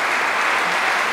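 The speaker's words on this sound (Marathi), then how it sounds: "त्यांना टाळ्या देऊन त्यांचं स्वागत करणं माझं काम आहे" An audience claps together to welcome a chief guest at a literary and cultural award ceremony, a dense, loud, even burst of applause filling the whole moment.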